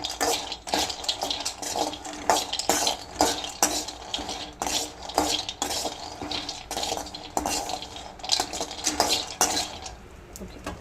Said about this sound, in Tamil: பாதாம் பருப்பு எடுத்துகிட்டு கொஞ்சம் சிம்மில் போட்டுட்டு நம்ம வந்து வறுத்து கொடுக்கணும்